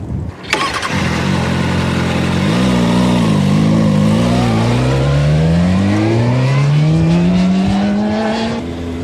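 A motorcycle starts and pulls away on a ride, its engine note rising steadily as it accelerates, loud and close throughout with no talking.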